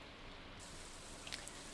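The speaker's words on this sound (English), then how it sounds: "It's raining once again." Steady broadband rain in the Stardew Valley game, a constant hiss with a few brighter drip-like ticks near the end, quiet and without voices.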